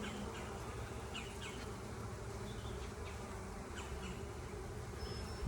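Honey bees buzz around an open hive as comb is rearranged between the top box and the brood box. Many insects hum in a continuous, soft swarm, with single bees droning close by now and then.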